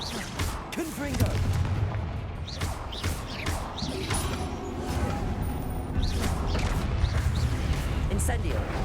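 Confringo fire spells explode one after another in the Hogwarts Legacy video game. Loud bursts and rumbling blasts repeat over a dense, continuous bed of creaks, crashes and mechanical game noise.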